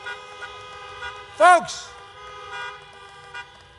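A car horn gives one short, loud honk at an outdoor political drive-in rally, with a faint second toot later under the steady voice of a speaker addressing the crowd.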